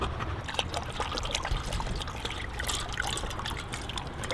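Water trickles and pours steadily into a dog's bowl for a few seconds during a family road trip in Canada's Maritime Provinces, a soft, close, continuous splashing with no talk over it.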